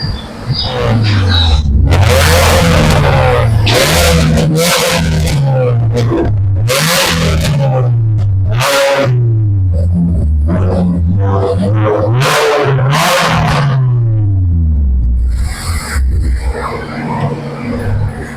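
A Ford Mustang GT fitted with a full-system exhaust revs again and again, each rise and fall of the engine note loud and close, with hard, snappy blips throughout.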